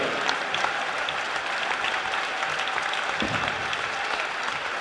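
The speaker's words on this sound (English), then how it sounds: "Let's give them a round of applause for 4 years of representing Arrow Nation at the highest level." A crowd at a high school boys basketball game applauds during senior night recognition, producing a steady wash of clapping that holds evenly for the whole stretch in a large gym.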